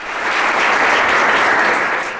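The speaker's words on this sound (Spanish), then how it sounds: "Denle un fuerte aplauso a nuestra hermana Feli" A church congregation gives a loud, sustained round of applause for a sister named Feli, a dense, even wash of clapping that swells and then eases off slightly over about two seconds.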